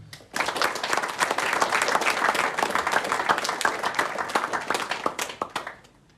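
A school sports awards audience applauds its winning teams, badminton among them, with dense, steady clapping that swells fast, holds loud for several seconds, then thins into scattered claps.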